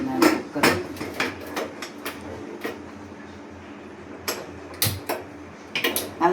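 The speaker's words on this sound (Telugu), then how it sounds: "మూత పెడుతున్నాను కుక్కర్" A pressure cooker lid is set and locked in place on a pot of lentils, giving a run of sharp metallic clicks and clanks, irregular and close, with quiet gaps between.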